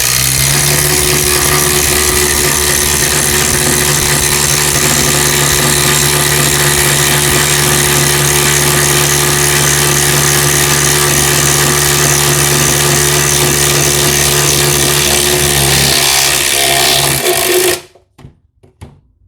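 A Milwaukee M12 subcompact drill bores a 1.5 inch hole, its motor whining loud and steady under heavy load for about seventeen seconds before cutting off abruptly, with no talking.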